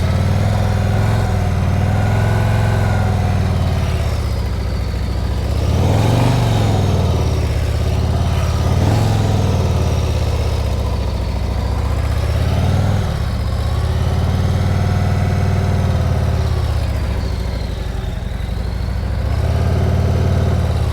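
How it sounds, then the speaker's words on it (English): Motorcycle engine chugging at low speed through a slow right turn, its pitch rising and falling gently several times over a steady rumble, close by with no speech. "Come and make a right turn. Listen to the engine, stay the same."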